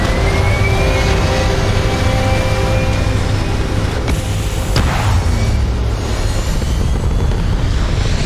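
A spaceship lifts off in the video game Starfield with a loud, continuous engine roar and rumble, steady throughout with a couple of sharp transient hits midway.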